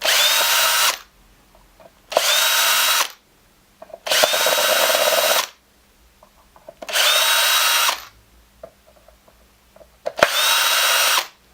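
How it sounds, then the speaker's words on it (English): A power drill backs out the bridge screws on a 2006 Mexican-made Fender Stratocaster, five loud, steady whirring bursts of about a second each separated by short quiet gaps, close up with no talking. "Remove the bridge by removing the 6 screws"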